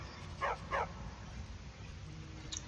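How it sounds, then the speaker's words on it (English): Two quick barks from a dog in Skyrim, soft and a little distant, set against a low steady background hum with no speech. "stop barking at me, Vigilance."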